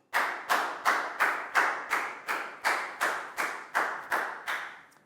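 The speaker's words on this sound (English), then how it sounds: "Big round of applause for Latgau, please, guys." A single pair of hands claps in a steady rhythm in a primary classroom, about a dozen evenly spaced, close claps over a few seconds with no voices between them.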